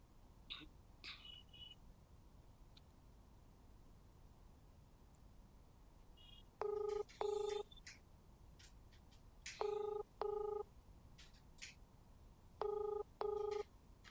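A telephone call ringing out on the line, three pairs of electronic ring tones evenly spaced over a quiet hiss background, with faint clicks early on.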